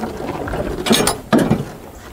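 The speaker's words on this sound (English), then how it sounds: "So let's open the hood." The hood of a school bus with a Cummins ISB engine being opened: two loud, close metallic clunks and rattles about half a second apart, with a quieter mechanical creak before them and no talking.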